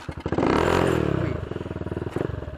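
A Rusi Flash 150 motorcycle with its stock CDI fires up close by, a loud burst of cranking and revving that settles into a steady, pulsing idle.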